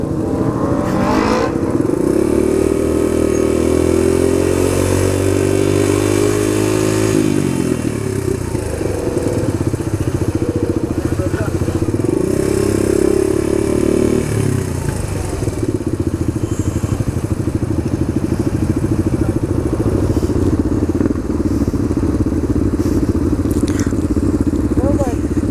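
A Suzuki DR-200 dirt bike rumbling close by while ridden, its single-cylinder engine dropping into an off-throttle burble between rising revs, with wind buffeting and a voice speaking over it.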